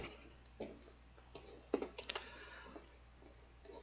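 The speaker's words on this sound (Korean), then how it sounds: "찾아보기 버튼 한번 눌러볼게요" A computer mouse clicks on a browse button while checking a SolidWorks installation, giving a few faint, sparse clicks and light taps over a quiet room hum.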